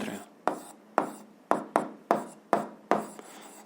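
Chalk or marker writing on a classroom board during a physics lesson, heard as a series of about eight sharp, scratchy strokes at a steady, quick rhythm, fairly close and alone.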